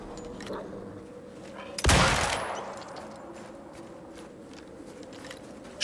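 A single loud burst of gunfire in the Icarus game, a sharp blast with a ringing tail that fades over about a second, set against a quiet background hum with soft clicks and movement.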